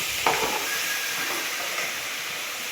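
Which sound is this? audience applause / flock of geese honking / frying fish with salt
frying fish with salt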